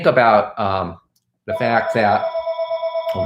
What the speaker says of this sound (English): I'm sorry about my phone there.